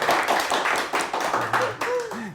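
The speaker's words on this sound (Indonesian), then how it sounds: "tepuk tangan dulu dong untuk Captain Bangkit." Applause for a sea patrol ship captain during a customs service podcast, a few people clapping in a quick, uneven patter up close, with voices talking over the clapping.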